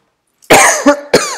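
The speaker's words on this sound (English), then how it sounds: "Oh, sorry, I'm having a dry cough" Dry coughs from a woman, three close, loud bursts: one long hacking cough followed by two shorter ones, alone with no talking.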